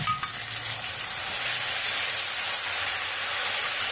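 Mustard and poppy seed paste, seasoned with salt and turmeric, fries in hot oil with a loud, steady, close sizzle and hiss throughout, no voices.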